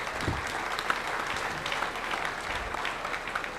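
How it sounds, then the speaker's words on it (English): Conference attendees give a sustained round of applause for the panelists, a dense, even patter that sounds moderately distant in a large hall. "can we clap again for all our panelists?"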